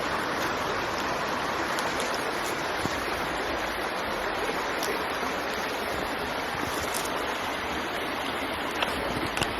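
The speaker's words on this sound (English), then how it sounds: "Okay, so I'm gonna fill this up now with the water." Stream water rushing steadily into a water filter bag as it is filled, a continuous close gurgling flow with no talk.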